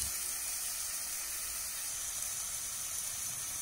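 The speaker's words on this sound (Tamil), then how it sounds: "வெங்காயம் ஒரு 2 நிமிஷம் நல்லா வதங்கட்டும்." Onions sautéing in a pan for beetroot kurma masala, a steady soft hiss and sizzle throughout with no talk.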